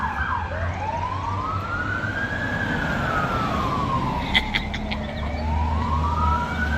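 A wailing ambulance siren sweeps slowly up and down in pitch over steady traffic rumble, loud and continuous, with a few brief chirps partway through.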